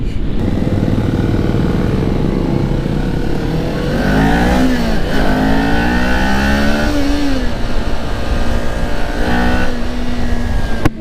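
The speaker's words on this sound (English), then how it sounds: "like I'm in 5th gear, low in the RPMs, and it pulls that hard" Kawasaki Ninja 400 motorcycle engine pulling hard in fifth gear from low RPM, a loud steady rising drone with harmonics climbing and dropping under acceleration, heard close from the rider's position with wind noise throughout.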